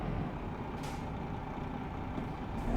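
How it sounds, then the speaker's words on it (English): Large truck close by, a low rumbling engine with a hissing burst partway through and another near the end, steady and fairly loud with no talk. "A truck."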